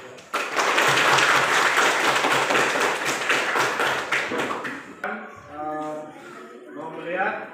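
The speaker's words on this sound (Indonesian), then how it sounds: "Mari kita memberikan aplaus atau tepuk tangan kepada kelompok" Classroom students clap together for a student group, a dense burst of hand claps for about five seconds that stops abruptly, followed by a voice speaking.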